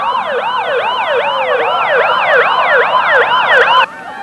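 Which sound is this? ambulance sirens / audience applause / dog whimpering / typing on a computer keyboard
ambulance sirens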